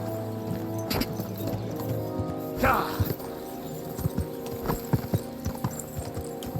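A horse's hooves clip-clop in Kingdom Come Deliverance 2, a string of irregular thudding steps over a low droning hum, with a short whinny-like burst partway through.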